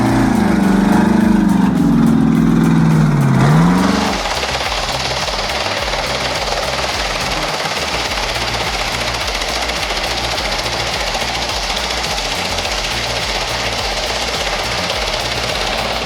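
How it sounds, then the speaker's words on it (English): Mack truck with a Detroit V8 engine hauling timber out of a forest, a loud heavy engine drone that drops in pitch and level after about four seconds, then a steady rough idling rumble with no talk. "Mac with a true Detroit V8 is an absolute workhorse."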